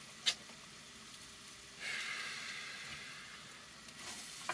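An egg sizzles in a pan on a small stove inside a van, a faint steady hiss that swells briefly with a few soft taps.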